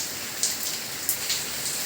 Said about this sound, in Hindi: अब जोर की लग गई है बारिश, देखो।